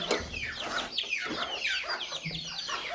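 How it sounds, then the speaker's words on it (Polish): Silkie hen with her chicks clucking, a busy run of soft clucks and high chick peeps close by, continuous throughout with little pause. "Silki też wam zaraz pokażemy, a czyli silkę z kurczakami"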